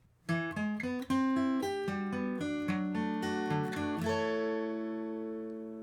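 Plucked acoustic guitar notes ring out one after another in a rising and falling arpeggio pattern from a song's interlude, then a final chord sustains and fades.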